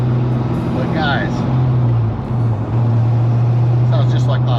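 A lowered car's engine idles steadily with a smooth, quiet, continuous hum and a constant low drone, while a person talks over it.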